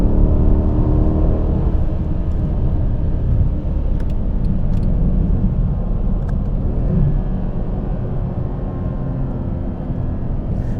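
A 2016 Mercedes CLS63 AMG with its V8 engine pulls onto a highway, giving a steady, heavy engine rumble and road roar from inside the cabin, continuous and fairly loud, with no one speaking.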